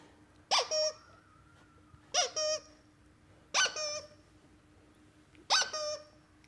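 A puppy's dog toy squeaker sounds four times at an even pace, each a sharp two-part squeak close by, separated by quiet gaps.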